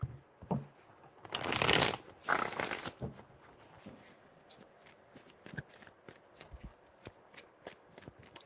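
Tarot cards being riffled and shuffled in a couple of loud bursts, followed by quieter soft taps and handling of the deck, close up.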